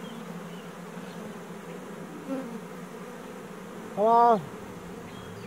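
Feral honeybees buzz in a steady, close drone throughout, while a person speaks briefly near the end.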